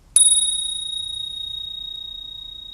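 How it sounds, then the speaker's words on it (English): A Spurcycle Spur bicycle bell is struck once, a bright, clear ding that rings out alone and fades slowly over a couple of seconds. "this little bell is quite an interesting little bell and it's quite expensive, but it gives a really lovely ring"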